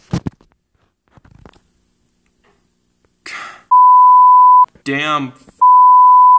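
Two loud, steady censor bleeps, each about a second long, cover swearing, with a voice talking between and just before them.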